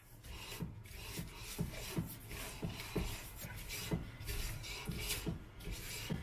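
Rear drum brake shoes of a Peugeot 107 rubbing as the wheel turns, a soft, regular scraping swish repeating roughly every half second, quiet and close with no voices.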